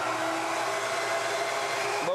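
A Ruwac Red Line Series industrial vacuum running with its inlet blocked off makes a loud, steady whining roar with a strained tonal hum, and the pitch shifts slightly at the very end.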